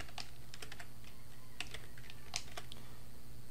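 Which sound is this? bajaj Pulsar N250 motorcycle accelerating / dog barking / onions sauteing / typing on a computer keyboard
typing on a computer keyboard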